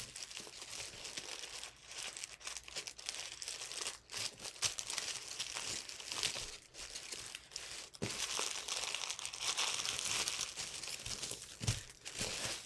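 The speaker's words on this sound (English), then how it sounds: "We're going to fold this down." Origami paper being folded for an elder dragon model, close crinkling and crumpling rustles with sharp creasing snaps, continuous and fairly quiet, with no talk.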